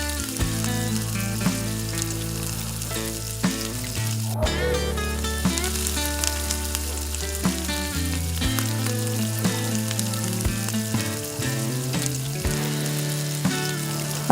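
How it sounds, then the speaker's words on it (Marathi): Surmai fish sizzles and crackles as it drops into hot oil, a dense, continuous frying hiss that runs under steady background music throughout. "तेल मस्त गरम झालेलं आहे, त्यामध्ये आपण आपले फिश टाकू"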